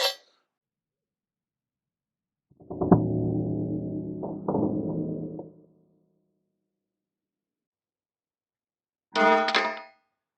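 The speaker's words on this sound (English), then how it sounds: "we're going to drop it here on shoulder height onto the optic" A pistol with a Vortex red dot optic dropped from shoulder height lands optic-first: a single heavy metallic clang ringing out for a few seconds, followed later by a brief second rattle.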